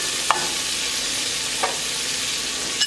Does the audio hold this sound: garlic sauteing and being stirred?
yes